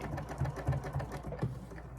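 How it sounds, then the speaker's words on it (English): A sewing machine stitches a collar on a batik canvas jacket, giving a faint, quick, rhythmic mechanical patter of needle strokes that runs continuously without speech. "We're going to sew on, back tack, and continue sewing."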